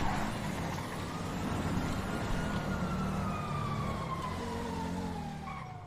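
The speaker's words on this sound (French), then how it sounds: "Oui, sirène." Emergency vehicle siren wailing with steady rising and falling tones over a continuous road and traffic rumble, sounding at moderate distance from a car, with no talk.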